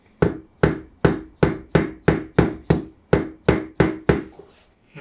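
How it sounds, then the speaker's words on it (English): A small dead blow hammer taps a precision machine spindle part during assembly, about ten even, crisp knocks in a steady rhythm, close and fairly loud. "I'm just going to use our little dead blow hammer, and just very lightly."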